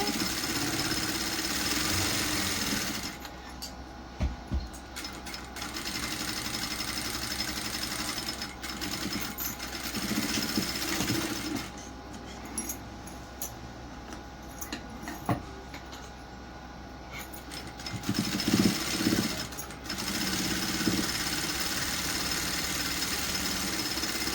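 A sewing machine stitches a plain blouse, its steady mechanical whir running continuously in close bursts with brief pauses between runs of stitches.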